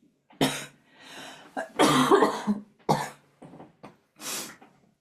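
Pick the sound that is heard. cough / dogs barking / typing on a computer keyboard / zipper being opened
cough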